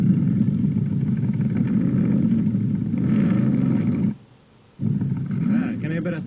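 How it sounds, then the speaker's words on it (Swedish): A Ford Continental V8 heard at the exhaust pipe before a women's rally: a loud, deep, rumbling idle and rev held close, then a sudden brief drop to near silence before the engine roars back up. "Ska ni få höra lite V8 här."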